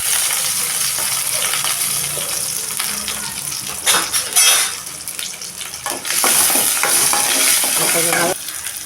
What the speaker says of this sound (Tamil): கொஞ்சம் சின்ன வெங்காயம், பூண்டு, கருவேப்பிலை போட்டுக்கிறேன்